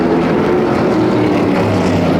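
Canadian Vintage Modified race cars running nose to tail at Flamboro Speedway, a loud, continuous engine roar close by with no break.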